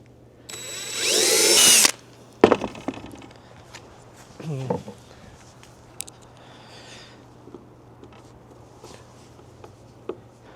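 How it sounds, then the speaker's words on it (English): A drill bores pilot holes while a crosscut sled is built, one loud sustained whine followed by shorter bursts and scattered clicks and handling knocks, close by and quieter toward the end. "And pre-drilling."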